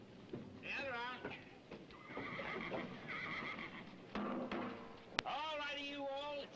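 Horses whinny repeatedly at a high-noon horse auction gathering, the neighs rising and falling over a steady background of clip-clopping hooves and crowd murmur, with a sharp click near the end.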